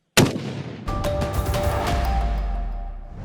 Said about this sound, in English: Meet the Scorpion Mobile Mortar System.